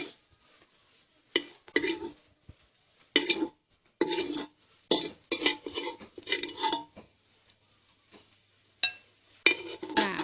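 Thai Isan-style stir-fry of holy basil with small frogs in a pan, heard as scattered metal spatula scrapes and clinks against the pan in short bursts, with light sizzling between them and no talk.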